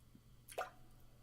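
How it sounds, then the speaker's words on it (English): A single water drop falls with a soft, short plop in otherwise quiet surroundings, one isolated faint drip. "Drip, drip. The sound of falling drops."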